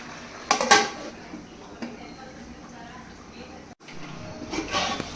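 A metal lid is set onto a pot of country chicken curry, making a couple of brief clanks and a scraping rattle near the start and end, while a person talks throughout.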